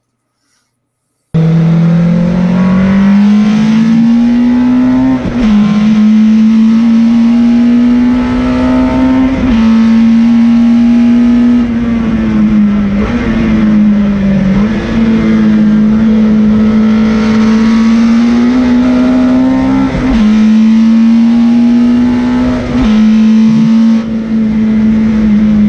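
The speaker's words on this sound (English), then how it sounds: "we have actually got some footage of yourself on board another beautiful racing machine" A club racing car's engine screams loudly on a circuit from onboard, holding a high, steady note with repeated gear-change dips and climbs, with no talk.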